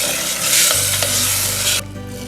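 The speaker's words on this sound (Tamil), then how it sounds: "இது கூட கட் பண்ணி வச்சுருக்க தக்காளியை சேர்த்துக்கிறேன்" Chopped tomatoes go into a hot pan of oil for a vegetable kurma, bursting into a loud, close sizzle with stirring, then the frying noise drops off sharply near the end.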